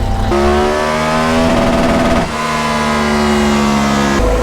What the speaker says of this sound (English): So now we start the tuning runs, which is going to get really loud in here, really hot.